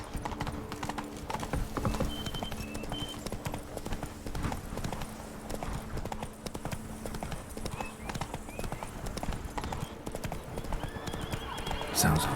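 Steady clip-clop of hooves from Roach, a horse in the video game The Witcher: Blood and Wine, galloping through the whole stretch with occasional neighs and whinnies, close and continuous over a faint ambient game backdrop.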